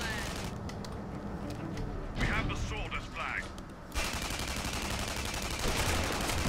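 Rapid bursts of gunfire in the video game Tribes Ascend, dense continuous shooting with a brief quieter stretch midway, under a player's voice.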